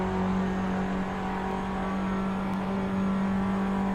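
A Formula Abarth race car engine in Assetto Corsa drones loudly and steadily at high revs along a straight during an online race, a constant whining roar with no talking.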